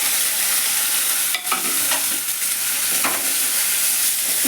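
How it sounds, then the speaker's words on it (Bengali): Onions frying in a pan with cinnamon, bay leaves, green cardamom and a little sugar, a steady loud sizzle with brief stirring scrapes, close up and without talk. "পেঁয়াজগুলো ভালো করে ভাজা হোক"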